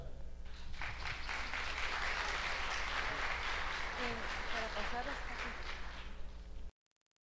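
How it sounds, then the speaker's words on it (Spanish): Sustained audience applause at an ecology-of-roads symposium in a hall, dense steady clapping filling the room for several seconds before cutting off abruptly. "Un fuerte aplauso."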